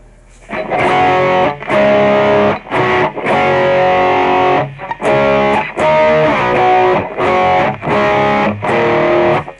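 Overdriven electric guitar through a Boss eBand JS-10, aiming for a 1960s-style tone, plays loud sustained chords in repeated phrases separated by brief breaks.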